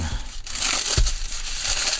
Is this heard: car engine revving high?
no